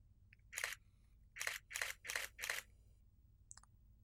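A DSLR camera shutter set to 1/1000 fires five crisp mechanical clicks in a quick, slightly uneven burst, followed by a faint double tick. The clicks are close against a quiet background.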